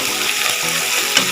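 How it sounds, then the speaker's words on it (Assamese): Fish sizzles and crackles in hot oil with fried onions, a steady broadband hiss with small pops and a brief louder spatter near the end, close by and continuous, with no talking. "পিঁয়াজটো ভাজা হৈ গ'ল এতিয়া মাছখিনি দি দিওঁ"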